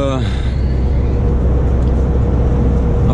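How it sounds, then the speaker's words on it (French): Cars pass on a quiet road during lockdown, giving a steady, close roar of tyres and engine that fills the whole stretch without fading. "forcément, j'allume la caméra, il passe 2 voitures."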